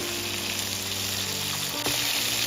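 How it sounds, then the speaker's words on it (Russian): Meatballs fry in a pan with a steady, dense sizzle close up, and a brief scrape or stir near the end. "Еще немного их обжариваю, до румяности, но не до готовности."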